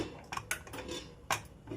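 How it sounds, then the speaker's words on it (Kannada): A pressure cooker lid being closed over mutton curry in a home kitchen, giving a few sharp metallic clanks and clicks at close range, with a brief scraping rattle between them and no talking. "ಕುಕ್ಕರ್ ಮುಚ್ತಾ ಇದ್ದೀನಿ"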